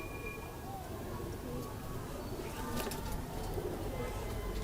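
A golden pair of breeder pigeons coos softly and faintly at close range. The low, repeated calls are mixed with someone speaking nearby.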